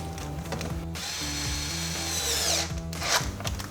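A power tool whirs steadily with a ratcheting mechanical drone while tightening the intake back onto the throttle body of a 2011-2017 Ford Mustang V6, running continuously with a brief pause near the middle, close and loud.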